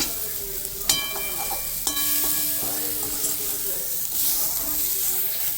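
Onion sizzles as it sautés in a pan, a steady close frying hiss broken by a few sharp metallic clinks of a spoon stirring against the pan.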